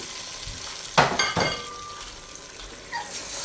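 Chicken pieces drop into a pan of hot curry sauce with two sharp sizzling bursts, followed by a quieter steady simmer and a faint later crackle.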